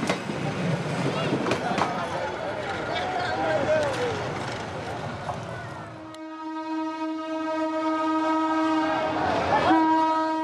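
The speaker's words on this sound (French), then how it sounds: "Ces coups de klaxon annoncent enfin l'arrivée à Dacca." Train horn sounding long, steady blasts on arrival in Dhaka, following a stretch of rumbling train and crowd noise, loud and close.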